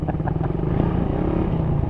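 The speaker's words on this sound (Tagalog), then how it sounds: "Kawasaki Barako 175 binomba eh no. Pero grabe ang lakas ng tunog, ang ganda." A Kawasaki Barako 175 motorcycle runs loud and close, its engine giving a steady, throaty drone with slight pulsing and no talk over it.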